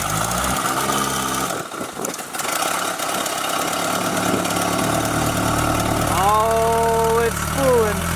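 A homemade turbocharged dune buggy engine runs at a loud, close, rumbling idle, with a brief dip as it stumbles, then rising whistling turbo spool tones near the end; voices are heard over it.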